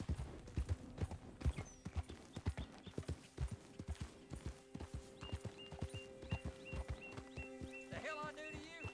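Horse hooves clip-clop steadily at close range in Red Dead Redemption 2, a brisk rhythmic trot with a brief whinny-like call near the end, with talking over the hoofbeats.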